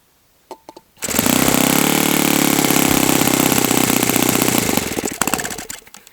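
An OS FS95V model engine running on swamp juice fuel starts after a few brief sputters, holds a loud, even buzzing drone for about four seconds, then drops back to a rough, uneven idle.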